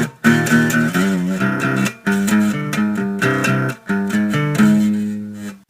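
Distorted electric guitar plays the first part of the main riff of a song in steady, palm-muted chugging phrases with short gaps between them, loud and close with no voices.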